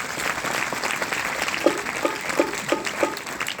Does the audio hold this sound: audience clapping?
yes